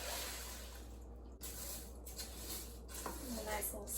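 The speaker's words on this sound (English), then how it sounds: "A nice little stir." Food stirred in a pan during a home evening routine, soft scraping and faint sizzling under a steady background hum, with a few brief louder scrapes; quiet and close.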